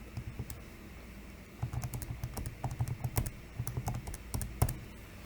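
Typing on a computer keyboard, a quick irregular run of clicking keystrokes that grows busier after a brief pause, close and fairly quiet, with no one talking.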